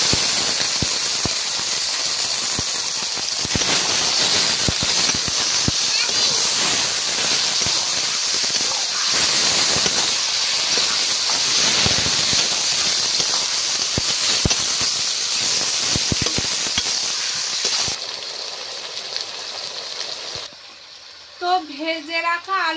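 Marinated country chicken pours into a hot pan of fried onion and garlic and sizzles with a loud, steady hiss that lasts about eighteen seconds. The sizzle then fades, and a voice speaks at the end.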